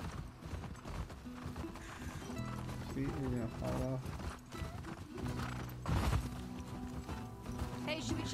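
A horse ridden through snow in The Last of Us Part II: steady clip-clop hoofbeats with a whinny partway through, heard under spoken dialogue between characters.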